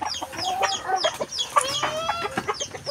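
Several chickens cluck close by, with quick irregular bursts of clucking and squawks overlapping throughout, alone with no talk.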